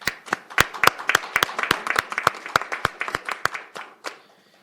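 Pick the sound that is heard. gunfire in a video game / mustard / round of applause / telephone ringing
round of applause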